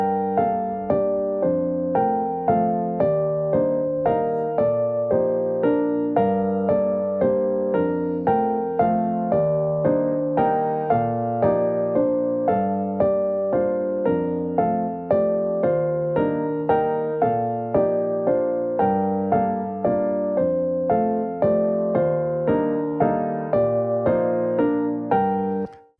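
Polymeter music example with a harmony in 3/4 against a melody in 4/4, a clean, evenly plucked keyboard-like tone with regular note attacks repeating throughout one long phrase, alone without voices.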